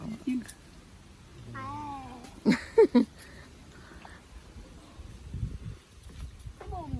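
A cat gives a few short meows under ongoing conversation, with a brief cluster of louder calls in the middle.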